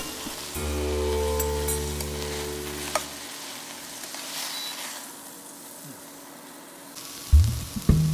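Kale stir-frying in a pan for a chickpea sabzi, a soft sizzle and hiss under a low steady hum, fading quieter midway, with a few clatters of stirring near the end.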